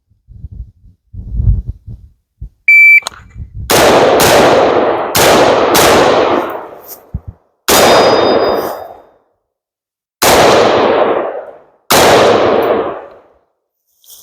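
Rifle shots at a steel target course, each a sharp loud crack with a ringing clang off the steel, coming in spaced single impacts about every two seconds, close and forceful.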